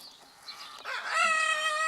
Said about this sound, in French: nouvel arrivant, super magnifique, c'est un coq Brahma